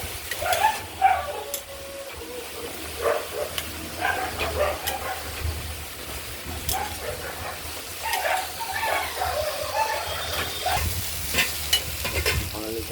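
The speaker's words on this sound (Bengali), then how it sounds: "যত নাড়াচাড়া দিয়ে যত মজানো যাবে তত এটার টেস্ট আসবে" A spatula repeatedly scrapes and stirs vegetable ghonto with coriander leaves as it fries and sizzles in a pan, an irregular close rhythm of scrapes over steady frying, with a dog barking in the background.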